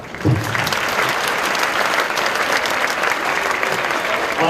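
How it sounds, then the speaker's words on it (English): Audience applause at a community afternoon event before intermission, a sustained wash of many hands clapping, loud and even from start to finish with no talk over it. "Give yourself a round of applause."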